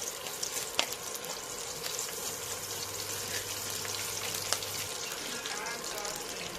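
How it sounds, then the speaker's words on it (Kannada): Mustard seeds and curry leaves crackle in hot oil in a pan, a steady soft sizzle with a few sharper pops, heard close over a low hum. "ಈಗ ಸಪ್ರೇಟಾಗಿ ಎಣ್ಣೆ ಹಾಕ್ಕೊಂಡು ಅದಕ್ಕೆ ಸ್ವಲ್ಪ ಸಾಸಿವೆ ಹಾಕಬೇಕು."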